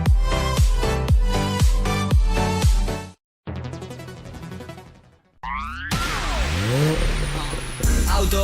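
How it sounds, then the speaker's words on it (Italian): A car in an Italian radio advert for DAB Plus: an engine revs and roars in bursts, then pauses, followed by swooshing passes and a drawn-out tonal sweep, loud and close, with sharp rhythmic hits at the start. "Auto nuova fiammante col suono nuovo"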